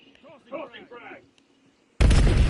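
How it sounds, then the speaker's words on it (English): A frag grenade in a video game detonates as a sudden loud, broadband blast with a rumbling tail, preceded by brief indistinct voices. "Tossing frag."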